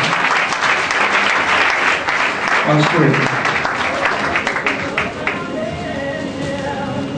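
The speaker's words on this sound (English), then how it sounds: "I thought we'd be clapping your hands." Steady applause from an audience fills the whole stretch, loud and continuous, with a brief voice speaking over it.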